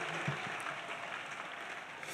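Quiet applause from a church congregation at a religious conference, a faint continuous patter of clapping with a small rhythmic accent near the start.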